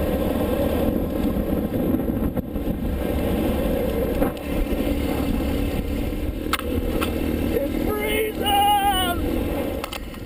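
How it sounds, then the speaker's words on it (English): A Honda C90 motorcycle engine chugs steadily and loudly uphill at nearly 5000m in Peru, with wind rush and a few brief rattles over the top. "the bike is chugging along"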